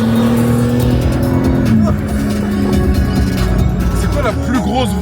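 A BMW M3 Touring Competition plays its stock exhaust note: a loud, close, deep engine drone that drops in pitch, then rises again in sharp rev bursts near the end.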